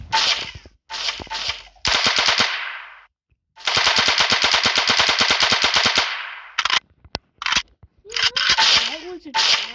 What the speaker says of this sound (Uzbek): Qayerdandir shu otyapti.